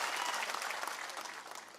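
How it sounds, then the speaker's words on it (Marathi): A crowd at a political speech by Balasaheb Thorat in Maharashtra breaks into brisk, dense applause. The clapping is loud and continuous, then tapers slightly toward the end. "सगळ्यांनी टाळ्या वाजून अभिनंदन केलं पाहिजे"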